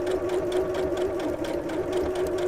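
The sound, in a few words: sewing machine stitching along a line under the presser foot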